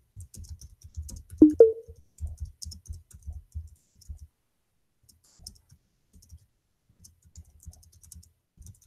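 Keys clatter on a computer keyboard in quick close bursts of typing, a dense run of taps followed by sparse scattered clicks and pauses, with no talking.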